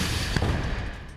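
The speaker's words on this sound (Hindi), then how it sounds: "जिससे घर में जोरदार धमाका होने लगता है।" A heavy, sustained roar from an explosion inside a house in Gaza, with a sharp thump partway through, loud and close.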